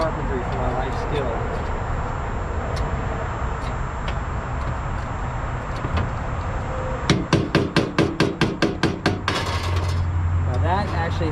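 A hammer strikes rusted bolts on a C3 Corvette door in a fast run of about a dozen sharp metallic blows, close and loud, with scattered knocks before and people talking throughout.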